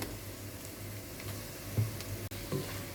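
Ginger garlic paste sizzles in hot oil with squid and curry leaves for a kanava roast, a soft continuous frying hiss with a few light stirring clicks and taps near the pan.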